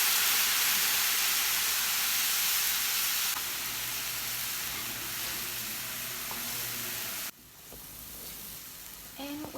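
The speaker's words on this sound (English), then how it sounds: "we're going to proceed to deglaze our pan and put all the juices in it" Red wine poured into a hot pan to deglaze the juices of a pork loin, bursting into a loud, dense hiss of sizzling steam that eases partway through, then cuts sharply before a few faint clinks.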